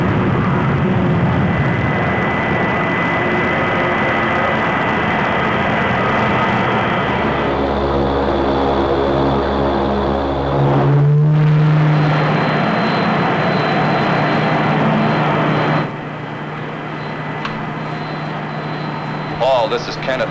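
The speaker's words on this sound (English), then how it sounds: "The orbit jet is in the process of landing." A spacecraft identified as an orbit jet comes in to land, a loud steady jet-like roar with a rising engine tone partway through, running throughout beneath people talking.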